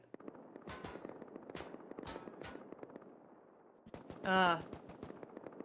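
Bursts of automatic gunfire crack repeatedly during a Rust video game 3v3 tournament fight, sharp close shots in quick clusters, with a louder tonal burst near the end and a commentator talking over it.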